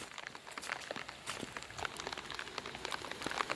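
Steady rain falls around a garden house beside a pond, a soft continuous patter with scattered sharper drops, quiet and close, with no voices.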